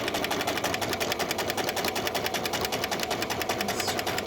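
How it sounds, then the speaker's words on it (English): A sewing machine stitches fabric in a steady, fast mechanical whir with a regular rapid ticking pulse, close and continuous without pause. "I'll put the needle down, move the material, and"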